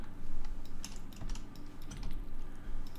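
Rapid typing on a computer keyboard while writing C# code, a close, steady clatter of key presses in uneven bursts with no voices.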